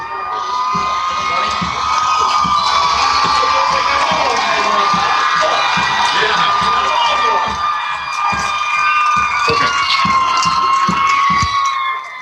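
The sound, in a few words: football crowd cheering after a point after attempt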